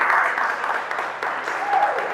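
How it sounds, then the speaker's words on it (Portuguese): Worshippers at a celebration church service applaud briefly, a steady wash of clapping mixed with voices for about two seconds. "Será que você pode aplaudir o Senhor?"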